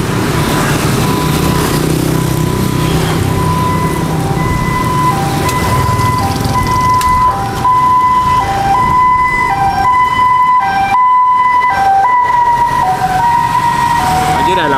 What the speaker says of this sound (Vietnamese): đây là xe cứu thương đi đây đi xuống